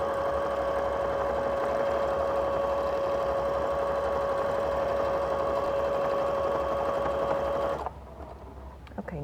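A sewing machine stitches thread through a quilted postcard in one steady, close whirring run that stops abruptly near the end.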